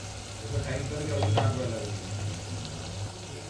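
Chopped onion fries in a pan for misal, a steady close sizzle with soft stirring scrapes, swelling briefly near the middle before settling back to an even crackle.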